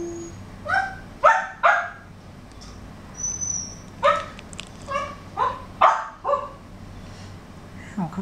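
A dog barks repeatedly nearby, with sharp separate yaps spaced about half a second to a second apart and mixed with a few whimpering yips.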